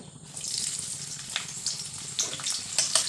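Bay leaves and sliced onion fry in hot oil for ghugni, a steady bright sizzle with crackles and a few louder spits, close and unbroken.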